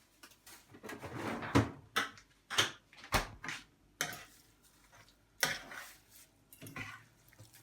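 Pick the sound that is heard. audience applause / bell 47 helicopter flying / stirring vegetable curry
stirring vegetable curry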